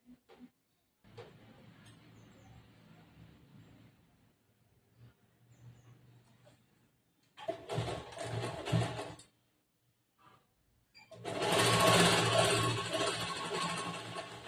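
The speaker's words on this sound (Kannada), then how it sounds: "ಇನ್ನೊಂದು ಹೊಲಿಗೆ ಅದ್ರ ಮೇಲೆ ಇನ್ನೊಂದು ಹೊಲಿಗೆ ಹಾಕ್ತಾ ಇದ್ದೀನಿ" A sewing machine stitches the shoulder seam of a lined blouse in short separate runs of rapid whirring, starting quietly and growing louder and longer near the end, with pauses between bursts.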